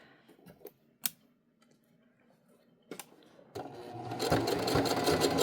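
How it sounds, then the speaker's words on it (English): A sewing machine stitches a hem on stretchy athletic pants with a zigzag stitch, starting after a few soft clicks and handling sounds and then running steadily and fairly loud. "I'm going to sew right at the edge and just catch that end of the seam right there"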